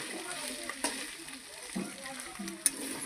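Spice paste sizzling and frying in a pan as it is sautéed, a steady close hiss with occasional sharp pops and stirring scrapes.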